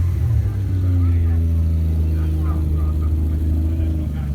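A Nissan R32 with over 900 horsepower drives in at a lakeside classic and sports car show, its deep engine rumbling loud and steady at low speed, with people talking over it.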